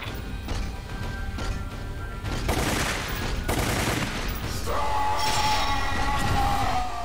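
Gunfire in a Resident Evil game: loud bursts of rapid shots mixed with crashing impacts and mechanical clatter, continuing throughout.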